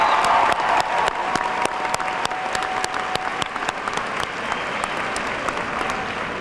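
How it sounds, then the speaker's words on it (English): A large crowd at a 2015 high school graduation ceremony gives a dense, steady round of clapping that carries on through the whole stretch without talk, easing slightly toward the end. "Please give Dejan and Malik a round of applause."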